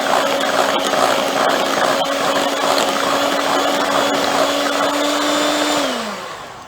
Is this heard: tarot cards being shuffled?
no